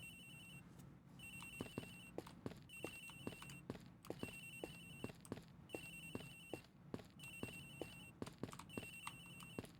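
A phone rings in the video game Ace Attorney Investigations, a quiet electronic trill repeating in regular bursts over a steady run of soft clicking steps.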